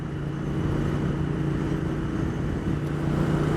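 Triumph Thruxton RS 1200 motorcycle cruising in sixth gear, a steady, loud, continuous engine drone with a low hum and wind rush, no change in pitch throughout.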